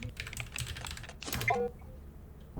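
Quick clusters of keystrokes on a computer keyboard while playing Lethal Company, faint and close, with small game sounds mixed in.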